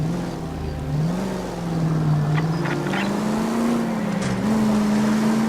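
A car drives in L.A. Noire, its engine a steady loud drone that climbs slowly in pitch as it accelerates, with faint clicks and no speech.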